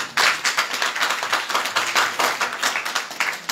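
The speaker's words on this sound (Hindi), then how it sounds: "ताली बजा।" An audience at a house program in Baraut claps in a quick, uneven rhythm, sharp close slaps repeating steadily without pause.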